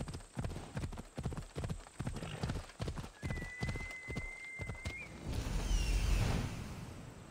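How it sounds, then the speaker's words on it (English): Rhythmic hoof clip-clops of a horse galloping in Assassin's Creed Odyssey, steady and close, then a horse whinnies near the end over a wash of wind-like noise. "You know you heard a horse galloping up behind you."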